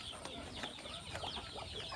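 Laying hens, including Asil crosses, cluck softly in a farmyard, with short scattered calls over a steady low background hum.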